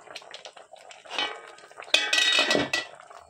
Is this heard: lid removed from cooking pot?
yes